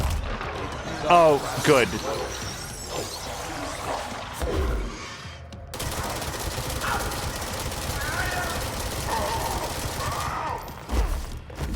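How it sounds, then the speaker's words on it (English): Scattered shots and impacts from a firefight in the video game Control pop irregularly through a busy mix of game effects, with someone talking over parts of it. "I'm just firing in a general direction at this point."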